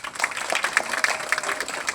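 Audience applause at a ceremony handing over Indonesia's environment minister post in Jakarta, a brisk burst of many hands clapping with a few sharper individual claps standing out, moderately close and continuous.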